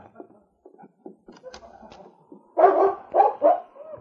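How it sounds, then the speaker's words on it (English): A large dog barks several times in quick succession, loud and close, after faint scratching and thumps at a cabin door in an old radio drama. "aroused into consciousness by the sound of the great dog King barking and scratching at the door"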